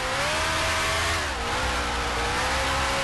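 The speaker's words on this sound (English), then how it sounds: "Really overrevved the engine there as a result." A racing car engine in the Grand Prix Legends driving game, over-revved after a wrong downshift into third, screams at a high, strained pitch that dips and wavers slightly, loud and continuous without any talk.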